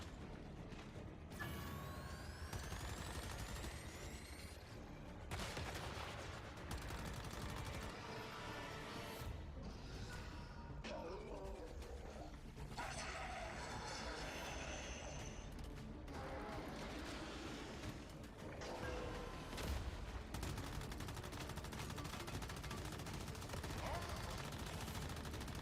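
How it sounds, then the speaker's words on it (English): Machine gun fire in the Once Human video game crackles in repeated rapid bursts mixed with mechanical clanks and creaks, faint overall, with occasional speech over the gameplay. "My machine gun is better than your machine gun."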